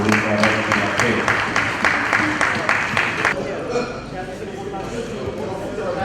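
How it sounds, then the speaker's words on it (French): Audience applause for a colleague at a formal gathering, rhythmic clapping mixed with a speaking voice and crowd noise, the clapping dropping away about halfway through as talk continues. "je vous demande qu'ensemble nous puissions applaudir notre collègue pour le travail qu'il a fait"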